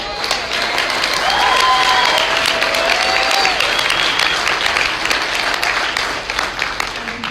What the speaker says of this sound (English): Please give Blake another round of applause